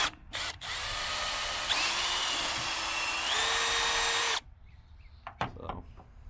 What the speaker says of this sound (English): I'm going to shoot some carb cleaner down these holes, the fuel injector holes, because they're pretty crummy, and hit them with a little brass brush